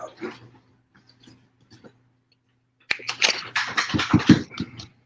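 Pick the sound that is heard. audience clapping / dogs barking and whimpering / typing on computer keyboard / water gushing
dogs barking and whimpering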